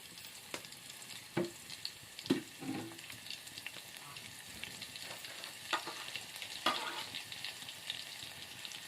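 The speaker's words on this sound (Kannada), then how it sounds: "ಇವಾಗ ಎಣ್ಣೆ ಕಾಯಕ್ಕಿಟ್ಟೀನಿ ಗಟ್ಟಿ ಬ್ಯಾಳಿ ಮಾಡೋಕೆ. ಇದಕ್ಕೆ ಇವಾಗ ಬೆಳ್ಳುಳ್ಳಿ ಹಾಕಿದ್ರಿ ಒಂದು ಜರ" Garlic fries in hot oil for a dal dish, a soft, fairly quiet sizzle broken by scattered sharp crackles and stirring scrapes, with no one talking.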